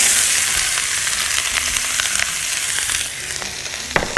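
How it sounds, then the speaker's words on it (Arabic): Onion frying in hot ghee, a loud, dense, continuous sizzle with occasional pops and crackles close by, and a few light stirring knocks near the end. "هحط السمنه، بسم الله الرحمن الرحيم، هنا هحط فيها البصل"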